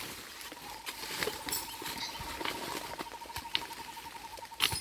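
Light drizzle of rain pattering softly and continuously, a fine scatter of faint drops with occasional sharper taps, heard from fairly close in a quiet outdoor setting with no voices.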